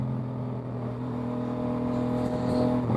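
A 2024 Yamaha MT-09 motorcycle engine accelerates under load in one gear, its steady droning note swelling slightly louder over a few seconds, heard close with no talking.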